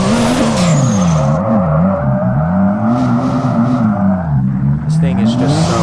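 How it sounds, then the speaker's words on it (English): A drift car in the Drift21 simulator game revs hard with tires spinning, the engine note rising and falling steadily as it holds a loud, continuous roar from start to finish. "the thing just absolutely light the tires up"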